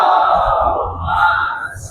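A large crowd at an Eid e Ghadeer Jashne Wilayat gathering of the KSI Jamat in Dediapada chants salawat together in a loud, sustained, close-range swell of voices.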